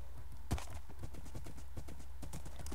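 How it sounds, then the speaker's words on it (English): A fast-moving horse's hooves clip-clop steadily in Minecraft, an even rapid rhythm of hoof beats with one louder thump near the start, over low background music. "I have a horse now, and he's quite fast."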